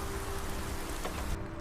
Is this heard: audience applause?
no